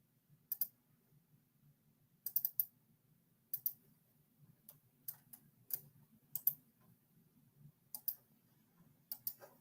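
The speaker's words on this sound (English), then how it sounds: "I'm going to type that into the best of my ability" Fast, light clicks of keys being typed on a computer keyboard, arriving in short irregular bursts with pauses between, close and quiet over a low steady room hum.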